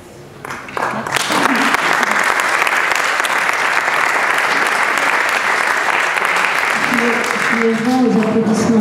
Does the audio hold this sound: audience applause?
yes